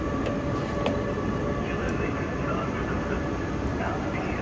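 Steady rumble of an intercity train at a station, with faint clanks and squeals over a constant low roar, as though heard from inside or close beside it.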